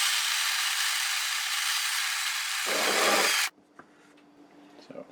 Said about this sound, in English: I'll grind it and dump it back into my little dish there.